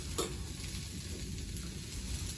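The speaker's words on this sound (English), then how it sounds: "We're getting these chips nice and sauteed." Tortilla chips sautéing in a pan with pepper, onion and garlic give a steady, close sizzle with soft stirring scrapes and one brief clink near the start.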